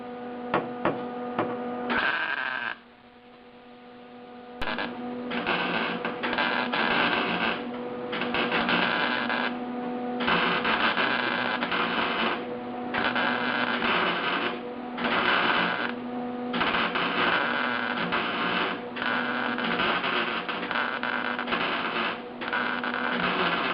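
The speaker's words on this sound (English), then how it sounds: "Holy crap, this grinding position is so awkward." A grinder works on the sheet metal of a 1976 Mazda RX-5 Cosmo in steady, close, droning bursts with brief pauses between passes, over a constant background hum.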